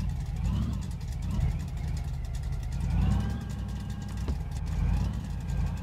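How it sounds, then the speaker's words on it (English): A Lada Niva's mid-pitched engine hums steadily, idling and then pulling away from a lift in a garage, with continuous low rumble and slight swells as it moves off. "let's just see if this car actually drives"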